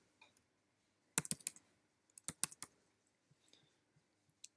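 A computer keyboard being typed on in quiet bursts of crisp clicks, a couple of tight clusters followed by scattered single keystrokes, close and fairly soft with no talking.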